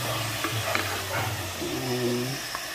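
Chicken pieces stirred and sizzling in a hot pan at home, steady frying hiss with scraping stir strokes, a faint dog bark in the background and a low hum throughout.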